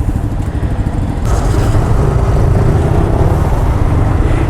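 Yamaha motorcycles set off together at the start of a group breakfast ride, a loud, close, continuous engine drone that rises slightly after the first second, with no talking.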